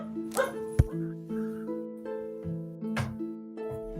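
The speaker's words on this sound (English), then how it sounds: "barking dog" A dog gives a series of short, close yips and barks with whimpering between them, spread irregularly over a few seconds against a steady background drone, with no talking over it.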